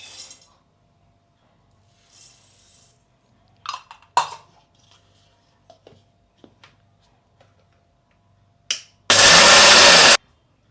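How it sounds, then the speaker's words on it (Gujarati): Mixer grinder coarsely crushing soaked dal and rice for handvo, a loud full-band whir in one burst of about a second near the end, after scattered kitchen clinks and handling noises. "આ છે ને મિક્સરમાં આપણે ક્રશ કરી લેવાનું છે બધી વસ્તુ રફ કરવાનું"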